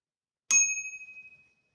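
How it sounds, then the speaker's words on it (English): A small bell, pushed once, gives a single bright ding that rings out and fades over about a second in an otherwise silent room. "Just pushing a bell there real quick."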